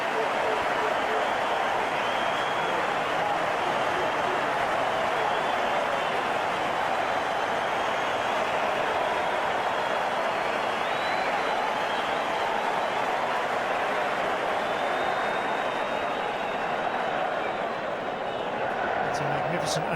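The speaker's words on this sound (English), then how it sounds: "magnificent ovation for great innings" A cricket crowd at Brisbane gives a sustained ovation for a great innings, its dense, continuous applause rolling on evenly and at a distance for the full stretch.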